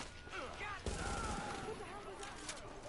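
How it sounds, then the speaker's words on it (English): Grenade explosions in a shooter game, heard as a dense, rumbling barrage of overlapping bursts with a sharp boom near the middle, continuing under steady background noise. "I hope y'all enjoyed our little grenade show just then."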